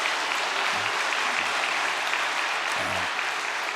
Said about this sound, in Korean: 우리 일본 형제들을 위해 격려와 사랑의 박수를